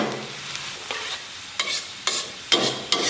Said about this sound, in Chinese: 油温5成热，咱们把这个姜给它下里边